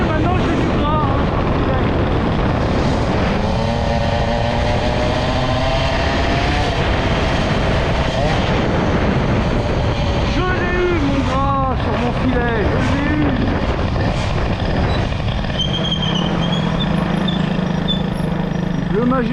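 A Peugeot 103 moped with a Doppler exhaust idles cold, a steady buzzing drone with wavering pitch that runs throughout while someone talks over it.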